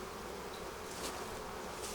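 Honey bees buzzing around an open hive during a beekeeping inspection, a steady, close, continuous drone that holds evenly throughout with no talk.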